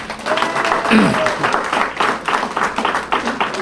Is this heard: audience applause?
yes